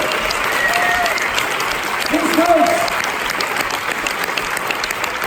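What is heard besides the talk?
audience applause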